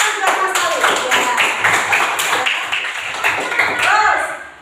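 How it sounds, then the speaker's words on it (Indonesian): A third-grade science class in an Indonesian primary school in Bandung claps hands together in quick, fairly even bursts close by, with children's voices mixed in throughout. "Tepuk tangan buat Mas Alif."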